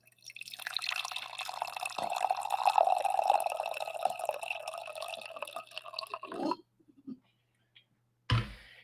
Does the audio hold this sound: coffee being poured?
yes